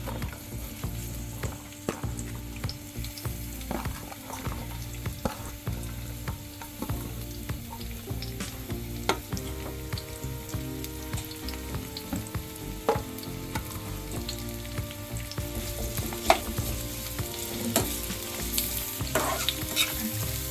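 Sliced onions sautéing in hot oil in a pan, a steady close sizzle with scattered stirring scrapes and clicks running the whole time, no talking.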